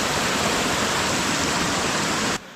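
Water rushing on the trek to Bhimashankar via Ganesh Ghat, a loud, dense, steady roar up close that cuts off abruptly near the end.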